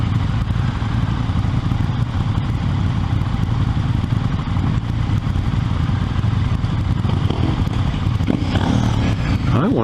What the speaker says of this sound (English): It is definitely a small engine.